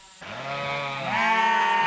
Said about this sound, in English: So these sheep obviously know what's about to happen, but we still like to use a call.